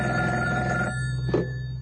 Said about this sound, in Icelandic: Ég sagði síminn hringdi.